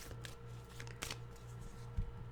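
Soft, close riffling and sliding of tarot cards being shuffled, with a few sharper flicks and taps, fairly quiet and steady.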